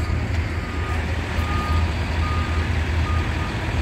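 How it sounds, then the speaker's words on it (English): Fire trucks repositioning at a blaze that destroyed a historic building in Kalamazoo, with a steady reversing beep repeating over a loud, constant diesel engine rumble close by. "They may be pulling these fire trucks up like this to reposition"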